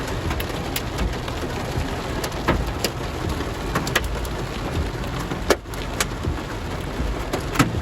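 A hailstorm beats on a car while it is driven: a steady, rushing patter like rain with sharper ice impacts cracking through at irregular moments, close and fairly loud, with no talking.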